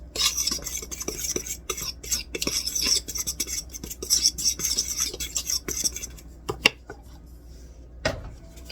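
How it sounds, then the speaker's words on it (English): Dry cookie ingredients spiced with nutmeg and cloves are stirred in a bowl for applesauce, raisin and pecan cookies, giving quick rhythmic scraping and clinking strokes that slow near the end, ending in a couple of sharper knocks. "I'm going to mix all these up together here."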